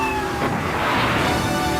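A cat meows within a radio advertisement in Grand Theft Auto III on PC, a short meow standing out over a continuous broadband bed of broadcast sound and music, steady and fairly loud throughout.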